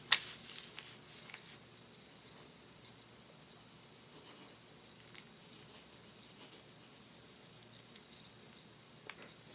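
A fountain pen scratches out a writing sample on paper, faint and close, with light intermittent rubbing and ticking strokes after an initial louder rustle.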